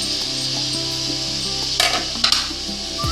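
Sweet corn, green chilies, carrot, capsicum and onion sizzle and stir-fry in a pan, a steady close crackle broken by a couple of sharp spatula scrapes against the metal.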